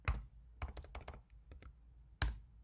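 A computer keyboard typing a command, bursts of sharp key clicks with a heavier thump at the start and another near the end, close and quiet.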